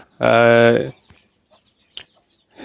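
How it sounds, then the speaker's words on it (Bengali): A single loud, drawn-out squawk from a native domestic chicken close by among chicks, followed by quiet with a few faint clicks and rustles. "এটা কিন্তু দেশি মুরগির বাচ্চা ওই যে দেখুন"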